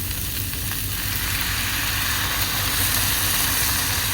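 Potatoes sizzle and crackle steadily on a hot griddle, a constant frying hiss with a low hum underneath.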